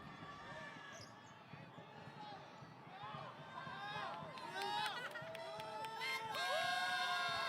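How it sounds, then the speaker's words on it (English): Crowd at a FIBA World Cup qualifying basketball game between Kazakhstan and the Philippines making noise during free throws, a steady roar with squeaks and bouncing that swells louder toward the end, with a commentator talking over it. "Plenty of noise in the crowd. Trying to put Blatch off at the line."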